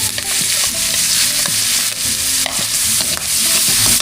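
Garlic frying in rendered pork fat, a loud steady sizzle with repeated scraping stirs of a spatula throughout, close up and with no voices.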